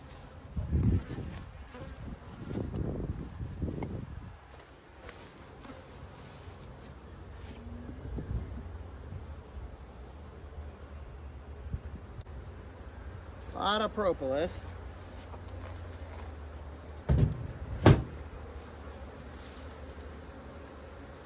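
Honeybees buzz around an open, fairly weak hive during a fall inspection, a steady soft drone close by with brief louder passes, while someone talks intermittently over it.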